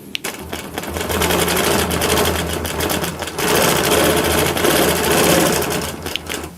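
A Nolting longarm quilting machine stitches a free-motion leafy fern pattern, humming steadily and loudly up close with a rapid, even needle chatter and only brief dips.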